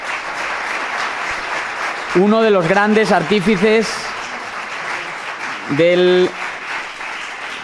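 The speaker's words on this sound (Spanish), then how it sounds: "también pido un aplauso muy fuerte para él" Audience at a panel debate on liberties applauding panelist Javier Fernández-Lasquetty, a steady bed of clapping throughout while someone speaks over it in two short stretches.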